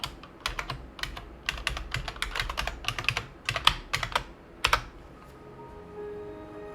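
Typing on a computer keyboard to log into Windows XP, with bursts of quick, crisp keystrokes up close, then a few separate louder key presses and quiet hum.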